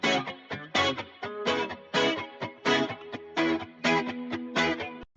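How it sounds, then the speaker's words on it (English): A rhythm chop electric guitar track from a mix plays short, rhythmic staccato chords in a steady pattern, each hit cut off sharply, heard alone and fairly loud. "So this rhythm chop guitar, this one up here, sounds like this."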